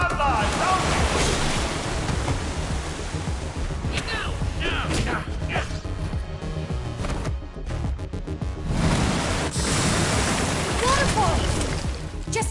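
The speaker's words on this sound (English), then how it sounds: "Waterfall!" Rushing waterfall in the Minecraft: Story Mode 2 game, a dense continuous wash of splashing water throughout, loud and steady with brief swells, mixed with game music and sound effects.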